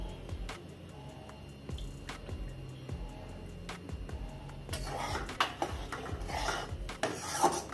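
Wheat flour being stirred and roasted with ghee in a pan for a Maharashtrian sheera, heard as close, repeated scraping and rasping strokes of a spoon against the pan, growing busier and louder in the second half.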